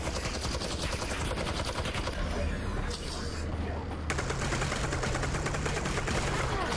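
A gun in the Half-Life: Alyx video game fires rapid, continuous automatic bursts, loud and close, with a brief lull partway through before the shooting resumes, while a voice talks over it.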